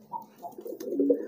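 A pigeon coos softly and close by, a few low, throaty rolling notes rising into a fuller coo near the end, with no talking.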